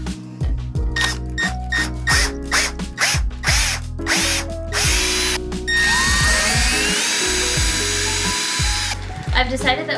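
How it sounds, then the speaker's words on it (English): A power drill whines and bogs as it bores through wood for a standing desk, loud and close, with ratcheting clicks and clattering between bursts of drilling. "know how much you need to drill the hole through the thickness of the wood"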